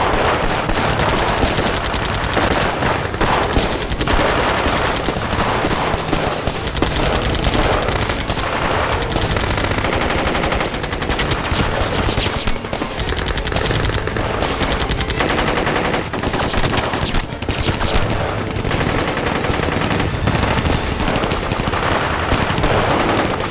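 Relentless machine-gun and rifle fire aimed at aircraft in a Chinese war film about Japanese forces, a loud, continuous hail of rapid shots with no pause.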